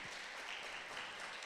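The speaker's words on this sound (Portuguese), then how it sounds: "Vamos recebê-la com aplausos" A church women's gathering audience applauds, a steady, dense wash of clapping that sounds distant and fairly faint throughout.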